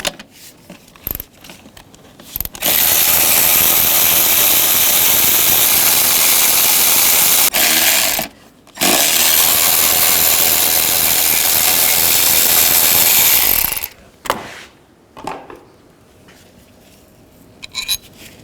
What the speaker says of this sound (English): Now take a 10mm socket and take all 4 of these bolts out.